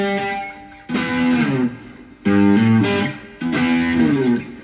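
Cigar box guitar tuned to open G played with heavy distortion, three loud strummed bar chords ringing out and decaying, no talk.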